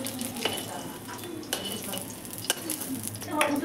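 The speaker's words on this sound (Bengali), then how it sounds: "তো ডিমটা ভাজা হয়ে গেছে" Boiled eggs fry in hot oil in a wok with a continuous close sizzle, punctuated by a few sharp scraping stirs of a spatula against the metal.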